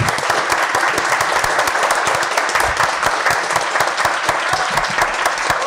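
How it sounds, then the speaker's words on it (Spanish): Audience applause at an academic philosophy colloquium, a dense, steady wash of many hands clapping at close range, sustained evenly with no speech. "yo pediría un aplauso para ella"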